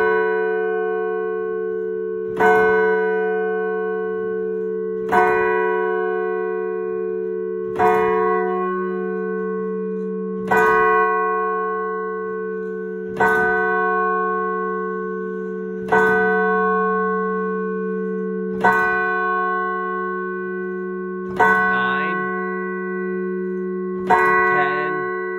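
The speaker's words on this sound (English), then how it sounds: "seeing a church bell chime 11 o'clock up close in person" A church bell strikes the hour slowly and evenly, about ten loud, ringing tolls close by for 11 o'clock, each one humming out over a steady low drone.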